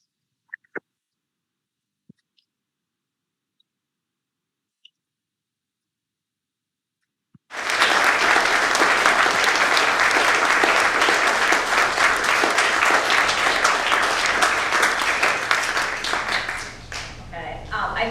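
After about seven seconds of near silence with a few faint clicks, an audience breaks into sustained, dense applause for a speaker at an online disability storytelling event, which tapers off slightly near the end.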